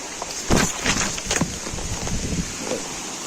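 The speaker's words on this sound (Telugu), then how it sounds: "పైనుంచి వచ్చే వాటరు ఇక్కడ చూడండి రాళ్ళలోకి వెళ్ళిపోతుంది చూడండి." Waterfall water at Sri Amara Lingeshwara Swamy Kona near Tirupati pours down into rocks, a steady broadband rush with a few brief splashy bursts near the start, no speech.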